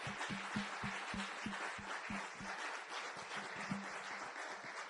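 A small group claps at a Miami Jewish cultural center, with a few distinct, evenly spaced hand claps standing out over a soft wash of applause.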